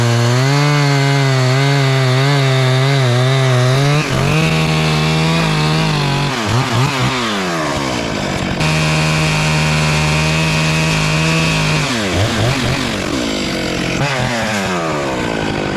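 A Stihl-style 661 chainsaw with a 42-inch bar bucks knots off a heavy redwood log, its engine screaming loud and close, dropping to a steady idle between cuts and then climbing back to full throttle as it bites into the wood.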